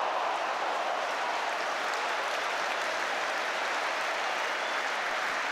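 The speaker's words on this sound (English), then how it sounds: "Applause around the stadium." A football stadium crowd at a Swansea City versus Barnsley match breaks into broad, continuous applause, a dense even wash of clapping from thousands of spectators, steady in level and heard alone.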